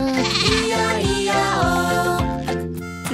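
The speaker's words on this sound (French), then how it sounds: "Le bébé mouton s'appelle l'agneau." A cartoon baby sheep bleats in a French children's farm song, its wavering baa notes woven through a loud, bright musical accompaniment.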